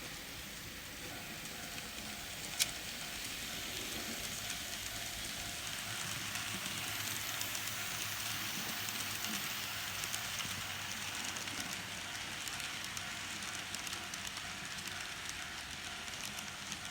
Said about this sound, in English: And now it's time to run some trains.